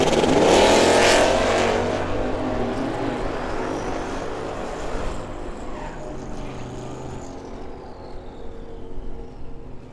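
A 1956 Chevrolet drag racing down the strip at Firebird Motorsports Park, a loud engine roar at launch that fades and drones steadily as the car pulls away, with a faint whine trailing off.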